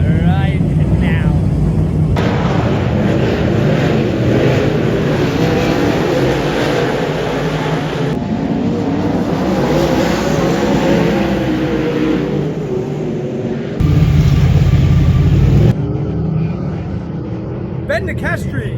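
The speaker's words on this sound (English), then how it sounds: "Late model heat racing right now." Late model dirt cars race a heat race at Sydney International Speedway, engines roaring loud and continuous with rising and falling revs as the pack passes, while a voice talks over the noise.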